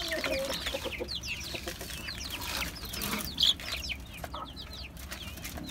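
Native and broiler chicks on a rooftop farm keep up a dense, continuous chorus of high peeping and clucking, with one brief louder chirp partway through and no talking.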